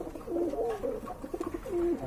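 A king pigeon coos nearby in a handful of short, soft, throaty calls over a couple of seconds.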